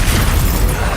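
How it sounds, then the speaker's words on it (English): A loud, dense explosion spell bursts out in the video game Hogwarts Legacy during a battle, filling about a second with a sustained, rumbling roar and crackle with no gap. "Explosion!"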